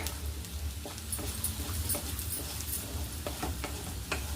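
Vegetable fried rice being stirred and mixed in a hot pan after pepper and salt go in, with a soft continuous sizzle under repeated scraping spoon strokes and light clinks, close by and without talk.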